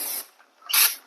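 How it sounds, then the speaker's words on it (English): Cleaner is sprayed onto a Honda Goldwing GL1200 motorcycle in two short, close, loud hissing bursts separated by a brief pause. "I'm going to spray it down, clean it up a little bit, so I can access the bolts"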